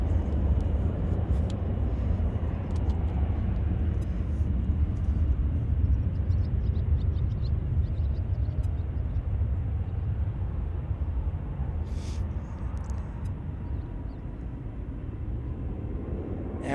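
Steady, low jet engine roar of an Emirates cargo plane at Cincinnati CVG airport, a broad rumble that holds level and eases slightly toward the end, with faint insect buzzing.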